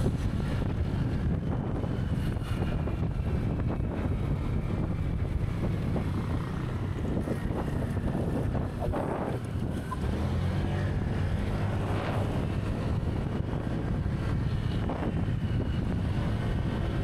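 Heavy wind roars continuously against the microphone while riding fast, a loud, constant low buffeting with occasional stronger gusts.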